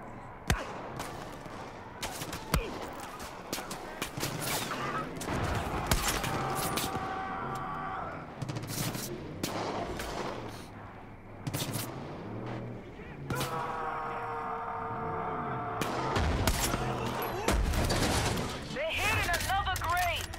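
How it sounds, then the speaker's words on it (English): Scattered gunshots in the Far Cry 5 campaign, sharp loud cracks and short volleys spread through the scene, with someone talking between and over them. "Oh, it's two shots at once."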